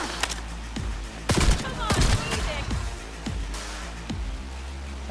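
Rapid bursts of gunfire from a weapon in the video game Cyberpunk 2077, several loud sharp shots in quick succession with short gaps, over a steady game soundscape.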